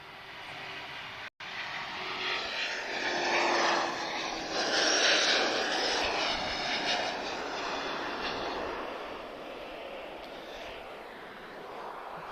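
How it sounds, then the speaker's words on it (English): An Airbus A330neo jet roars at Lisbon Airport, its engine noise swelling and then holding as a broad, loud rush, with no voices. "So that's tap 209 off to JFK, A330neo."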